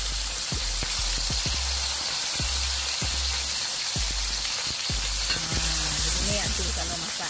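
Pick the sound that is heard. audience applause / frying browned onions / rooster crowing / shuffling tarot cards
frying browned onions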